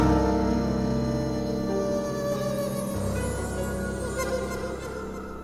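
Sampled flutes layered into a full electronic track sustain breathy, wavering melodic tones over steady bass and pads, dense and continuous throughout.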